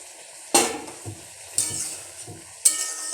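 Cauliflower and potato curry cooks in a pan, giving a low steady sizzle with three sharp bursts of stirring or spoon scraping spaced about a second apart, close by and with no talking.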